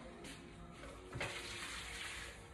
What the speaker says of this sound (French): je vais juste vider l'eau et vous montrer le résultat